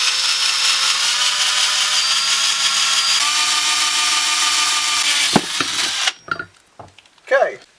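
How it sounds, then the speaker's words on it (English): A power drill with a small, sharp bit whines steadily for several seconds while drilling a hole, its pitch shifting partway through, then cuts out, followed by a short burst of talking. "I have a small but sharp drill bit, so I can just make a hole through this."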